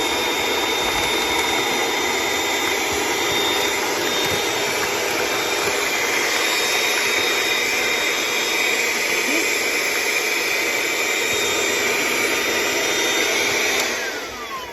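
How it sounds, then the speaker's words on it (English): A small handheld vacuum runs steadily at close range, sucking the air out of a Mylar food bag, a continuous high whine and rushing air that holds even, then winds down at the very end. "we take our little handheld vacuum here and we just suck all the air out."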